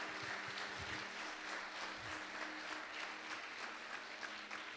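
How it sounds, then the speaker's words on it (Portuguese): Worshippers applaud at a celebration church service, producing a dense, continuous wash of clapping that stays steady and fairly loud from start to finish. "Você pode aplaudir?"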